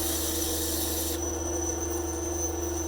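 A surface is sanded by hand, producing a continuous close scratchy rasp over a steady background hum, with the stroke changing partway through.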